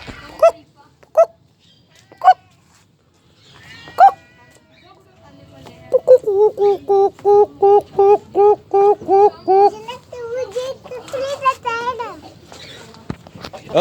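A rooster or chicken gives a run of loud, rhythmic clucks and squawks close by, preceded by a few sharp isolated calls, with people talking intermittently in the background.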